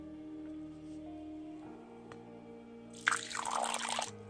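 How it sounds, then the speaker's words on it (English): Water poured into a slime mixture arrives as a short, close splashing burst after a few quiet drips, over steady low background hum. "Okay, and add your water."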